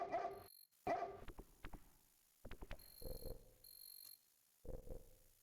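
A dog barks from a dogwood tree in the King's Quest VI adventure game, several sharp clipped barks and yips in short bursts with brief pauses between them, fairly close and clear.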